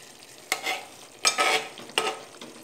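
Chicken roast with curry leaves stirred in a pan, three distinct scraping, rustling sweeps at steady intervals, each followed by a short sizzle, close and moderately loud.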